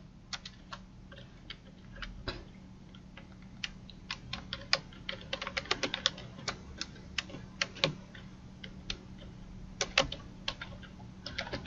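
Rapid, uneven clicking of fingers typing on a computer keyboard, close and clear, with keystrokes in short bursts over a low steady hum and no talking.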